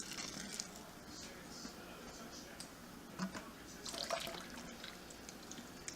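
Sparge water trickles and drips through a mash of grain while brewing cream ale, a faint, steady patter of draining liquid with a few louder splashes, quiet and close.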